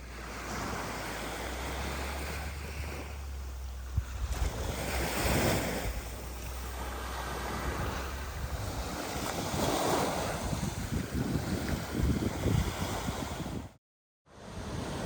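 Waves washing onto a beach on Tinian in Micronesia, a steady surging roar of surf mixed with wind buffeting the microphone, rising and falling gently throughout with a brief dropout near the end.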